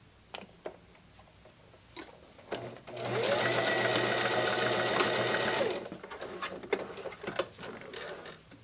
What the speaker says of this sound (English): I'm not sewing over the pins.